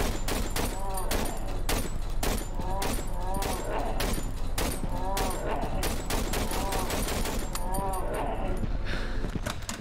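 Rapid bursts of gunfire in the horror video game Cry of Fear, a fast repeating rattle of shots that runs nearly continuously at steady loudness with brief gaps between volleys.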